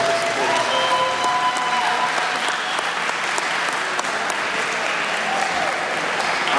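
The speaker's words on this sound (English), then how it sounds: "I want to give a big round of applause for Bertrand's support." An audience at a spring band concert claps steadily and loudly, a dense sustained round of applause from a full room that keeps an even level throughout.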